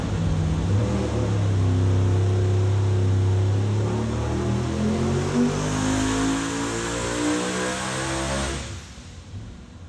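High-horsepower car engine running on E85 without an intercooler, revving up loudly into a droning, rising roar that holds for several seconds then cuts off abruptly, close and with no talking.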